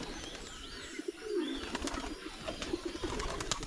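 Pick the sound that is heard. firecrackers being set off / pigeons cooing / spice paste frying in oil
pigeons cooing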